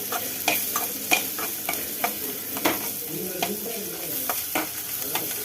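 Shallots and dried red chillies sauté in a pan, a spoon scraping and tossing in irregular close strikes over a soft, steady sizzle, with no talking.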